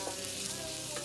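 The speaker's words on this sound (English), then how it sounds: "Now we want to stir this around" A pot of pickling sauce for Cape Malay pickled fish being stirred, with a steady broadband hiss and a faint continuous tone underneath, close and even throughout.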